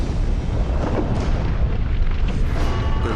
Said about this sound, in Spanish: El mar retumba.